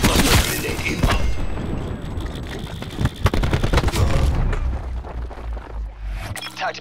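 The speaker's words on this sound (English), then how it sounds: "Cluster grenade inbound." Cluster grenade explosions in the Black Ops 4 shooter game go off as a dense, rapid series of loud, crackling bursts and booms. The barrage rolls on for several seconds before cutting off abruptly near the end.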